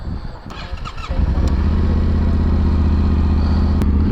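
A Yamaha Tenere 700 World Raid motorcycle with an aftermarket exhaust starts up: a clattering crank, then the engine catches and settles into a loud, steady, throbbing idle heard up close.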